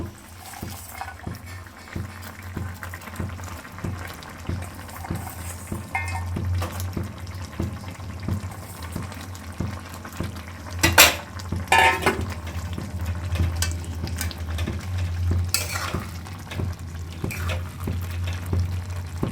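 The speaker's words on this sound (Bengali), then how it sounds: "এবার ভেজে রাখা মাছগুলো আমি দিয়ে দেবো" Fried small chuno fish are tipped into a simmering curry and stirred, with soft bubbling and intermittent scraping and clinking of a spoon against the pot over a steady low rumble, fairly close, with no talk.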